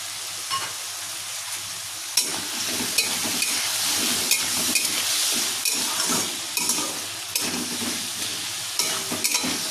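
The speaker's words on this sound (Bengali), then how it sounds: "তো এটা একটু ভাজা ভাজা হোক" Potatoes with turmeric and peanuts fry in a pan, a steady close sizzle broken by scraping stirs and occasional utensil knocks, with no talking.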